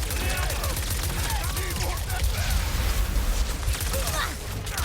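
A shock weapon fires in Ratchet & Clank: Rift Apart as a dense, continuous crackling barrage of zaps and bursts over game noise. A player talks over it.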